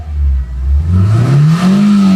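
A 1995 Toyota Great Corolla AE102 engine is revved hard, a loud close roar that rises in pitch, dips briefly, then climbs again and holds high, with no talk.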